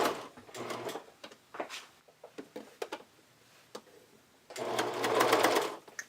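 Domestic sewing machine zigzag stitching elastic onto fabric, running in two loud bursts of rapid whirring stitches at the start and the end, with softer ticks and handling clicks in the quieter gap between.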